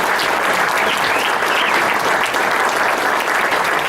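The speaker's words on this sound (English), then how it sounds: "So please give them a big round of applause." Loud, dense audience applause for teachers at a district educator awards event, steady and sustained with no break and no speech over it.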